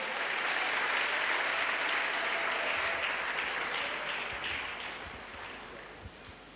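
Steady applause from a crusade audience in Douala, a dense wash of clapping that gradually fades toward the end.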